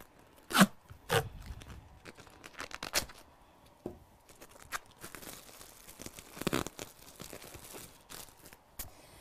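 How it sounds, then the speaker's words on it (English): A plastic bag being secured in place with tape as part of a home treatment compress, giving soft crinkles, a few sharp tearing strips of tape and scattered rustling handling noises, close and fairly quiet, with no talking. "secure this plastic bag in place with a little bit of tape"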